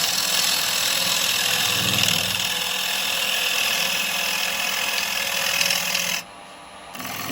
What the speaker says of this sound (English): It's just a small 1/2 inch spindle gouge.